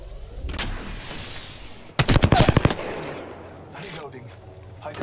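Automatic gunfire in Apex Legends: a sharp rapid burst of about a dozen close shots, with further scattered shots and game noise before and after.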